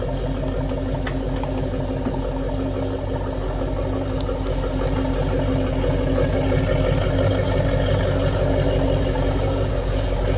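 A 1970 Dodge Challenger engine idles steadily with a low, even rumble that holds constant throughout, with no talking.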